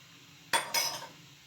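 A utensil clinks twice against a bowl while egg and salt are mixed for homemade croissant dough, two close, sharp metallic knocks with a short ringing tail in a quiet kitchen.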